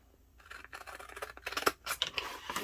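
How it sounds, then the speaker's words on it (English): Scissors snip around paper card during fussy cutting for a tea bag and hot chocolate holder craft, a quick run of close, crisp cuts and rustles that speeds up toward the end. "And then take my scissors and do some fussy cutting."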